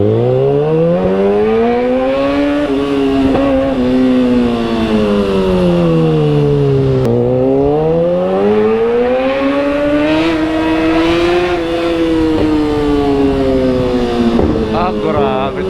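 A motorcycle engine runs continuously while it is ridden, its pitch rising and falling through several smooth acceleration and gear-change sweeps. It stays loud and close throughout, with wind noise behind it.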